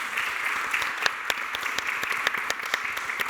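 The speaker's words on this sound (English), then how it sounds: "Let's have a round of applause for our panelists." An audience at a space policy panel in the United Arab Emirates breaks into sustained applause, a dense steady patter of many clapping hands with a few sharper individual claps standing out.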